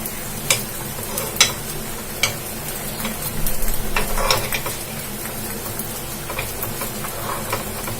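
Vegetable kuzhi paniyaram cooking in a pan over a medium flame on the stove, with a steady soft sizzle and a few sharp clicks and taps, including a brief louder burst near the middle; no talking.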